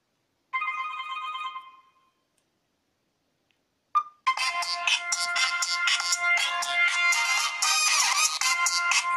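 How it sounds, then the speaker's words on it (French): A Cubot S550 smartphone ringtone plays a short melodic burst, stops, then after a tap a louder, busier ringtone melody plays on continuously. "Son, paramètres, on va écouter un peu le son, voir ce que ça fait. Sonnerie."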